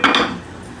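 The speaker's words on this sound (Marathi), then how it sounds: "आता मी काय करणार, मिडियम गॅसवर हा तवा ठेवते" A metal tawa griddle is set down on a gas stove with a loud, close clang and a short clatter of pans that rings briefly and then fades.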